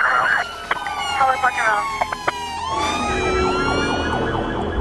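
An ambulance siren wails with rising and falling tones amid a busy emergency scene. It sounds fairly close and loud over background clatter and faint voices.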